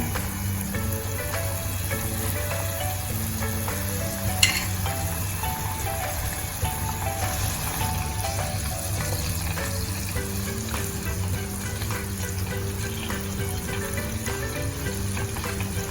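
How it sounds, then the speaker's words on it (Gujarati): Homemade granular ghee simmering in a pan on a gas stove, giving a steady, continuous sizzle and frying crackle with faint bubbling throughout, with no talking. "તો તમે જોઈ શકો છો કે આપણું જે ઘી છે તે બનવા લાગ્યું છે."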